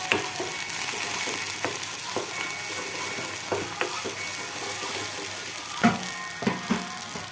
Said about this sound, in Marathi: आता थोडंसं एकत्र करून घेते आहे.